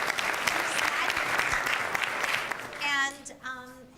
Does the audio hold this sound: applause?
yes